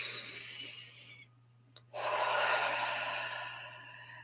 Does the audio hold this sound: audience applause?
no